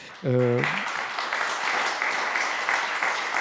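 Applause from an audience at a parish talent show after an oboe performance, a steady patter of clapping following a short voice at the start.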